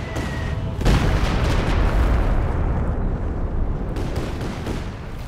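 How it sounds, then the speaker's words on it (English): Huge explosion in the Company of Heroes 2 real-time strategy game, Wehrmacht against Soviets, with booming low rumble and continuous battle noise sustained throughout, loud and dense with no talking. "where was that giant explosion?"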